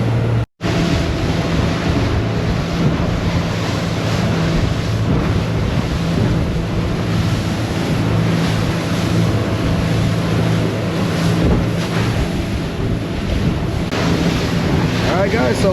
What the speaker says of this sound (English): we got the waves coming on our port side